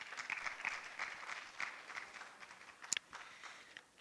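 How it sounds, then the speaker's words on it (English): A small audience at a Halloween horror poetry event gives a brief, faint round of applause, scattered claps heard from a distance over about four seconds. "So give yourselves a round of applause."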